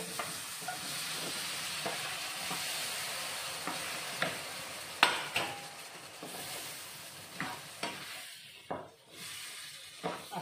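Gooseberries for pickle stirred in a hot oiled pan: a steady close sizzle and hiss carries throughout, with spoon scrapes and knocks against the pan at irregular intervals, and no voices.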